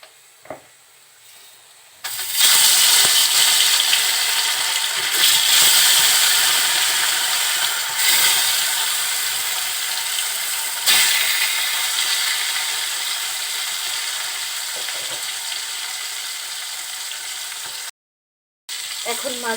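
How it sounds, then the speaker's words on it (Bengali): Rohu fish pieces drop into hot oil in a wok and burst into a loud, steady sizzle that runs on with small crackles, briefly cutting out near the end. "মাছটা এখন দিয়ে দিব।"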